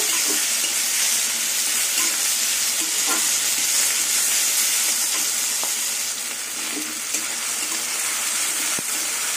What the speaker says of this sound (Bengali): চিংড়ি মাছ পেঁয়াজ রসুন একসাথে ভেজে নেব।